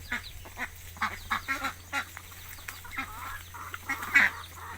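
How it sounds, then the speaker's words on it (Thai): Ducks feeding on culantro (sawtooth coriander) leaves outdoors in cool weather, giving soft scattered quacks and dabbling pecks with one louder call near the end, over a low steady hum. "เอามาดูน้องเป็ดกิน"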